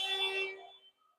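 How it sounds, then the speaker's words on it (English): Basketball game buzzer sounding in a gym, a single bright electronic tone that holds briefly then fades out, heard alone at moderate level. "Buzzer."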